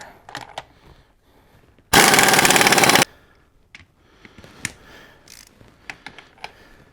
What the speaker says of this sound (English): We're going to take our impact on a lower setting and zip it on there.